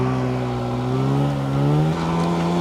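A snowmobile engine revs in one smooth, rising pull, loud and close, then drops slightly and holds a steady high drone, with no talking.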